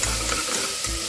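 Food being mixed while it fries in a pan: a brief, close sizzle with the soft scrape of stirring, no voices.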